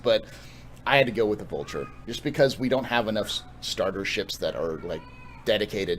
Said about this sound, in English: that's my cat crying